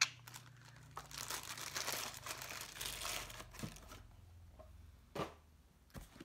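Paper packing crinkles and rustles as a large box is unpacked, a dense, close run of crumpling for several seconds, then sparse crisp handling noises with no talk.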